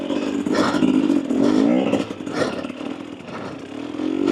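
A 2024 Husqvarna TE250 dirt bike revving and throttling on a trail, its mid-pitched engine rising and falling in uneven bursts close by, with clattering from the bike over rough ground.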